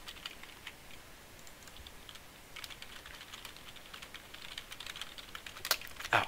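Typing code on a computer keyboard, soft irregular clicking keystrokes in quick bursts, close but quiet, getting a bit louder near the end with a few sharper clicks.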